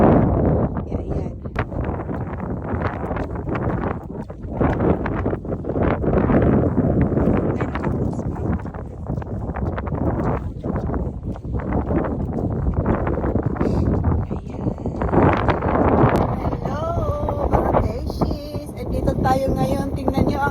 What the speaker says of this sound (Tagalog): Medyo mahangin at malamig.